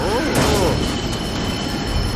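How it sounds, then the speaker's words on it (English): A short burst of train noise: wheels rolling on rails with a brief metallic squeal, busy and fairly loud throughout. "Super Train, use all your power to stop Troy."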